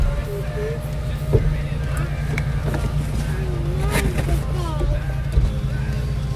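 A vehicle driving off-road in mud during a storm chase near La Luz, New Mexico, with a steady engine rumble and occasional revs heard from inside, under excited talk from the people aboard.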